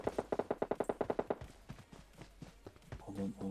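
A rapid burst of automatic gunfire rings out during a firefight on the Sanhok map in PUBG Mobile, about a dozen sharp, evenly spaced shots followed by scattered quieter shots and movement, with a voice speaking briefly near the end.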